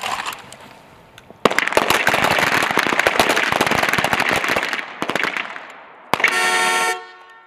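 Pistol gunfire at an army small arms championship: a rapid string of loud, sharp shots rings out on an outdoor range, followed by a brief buzzer-like horn tone.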